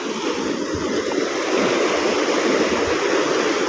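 Steady broadband wash of surf, waves breaking continuously close by with a constant roaring hiss and no voices.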